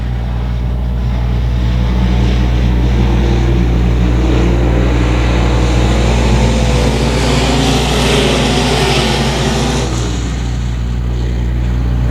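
Loud, dense roar of a pack of race cars accelerating off a green-flag start at 281 Speedway, engines layered together and swelling as the field pulls away, steady and close throughout.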